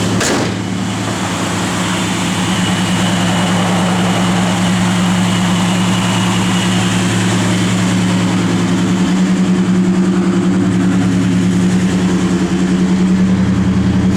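A 1969 Plymouth Road Runner idles steadily, its V8 giving a loud, close, continuous low rumble with an even lope and no revving.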